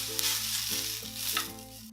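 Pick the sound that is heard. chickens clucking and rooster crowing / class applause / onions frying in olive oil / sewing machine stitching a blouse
onions frying in olive oil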